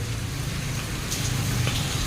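Steady rain falls in a dense, even hiss with occasional louder drips, continuous and fairly close, no voices.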